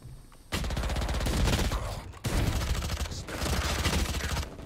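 Rapid automatic gunfire in the Valorant shooter game, two loud sustained bursts separated by a short break, dense and close with no talking.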